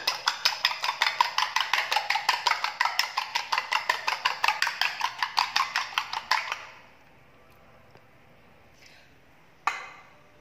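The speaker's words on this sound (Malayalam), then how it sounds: "ഇത് നന്നായിട്ടൊരു സ്പൂണ് വെച്ചൊന്ന് ഇതുപോലെ അടിച്ചെടുക്കുക." Rapid spoon-against-bowl beating of an egg, a dense run of quick metallic clicks for about six seconds, then near silence with one faint tap and a final sharp clink.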